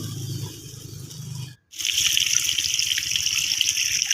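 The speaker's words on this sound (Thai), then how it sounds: "ก็มาเอาน้ำเติม ลงไปในบัวด้วยนะคะ" Water poured from a container into a lotus pot in a home vegetable garden, a steady close splashing trickle that starts after a brief pause, continuous and fairly loud to the end.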